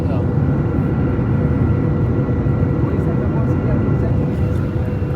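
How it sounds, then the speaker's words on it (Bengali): Airliner cabin on descent into Qatar, a loud, steady low engine roar filling the space, with someone speaking over it. "আমরা এখন কাতার বিমান এখন ল্যান্ড করবে"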